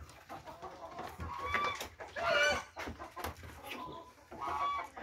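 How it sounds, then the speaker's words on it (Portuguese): Hens clucking in a backyard chicken coop, several birds making repeated soft and rising calls close by, over quiet ambience with no talking. "Acho que as galinhas aqui é doido mesmo."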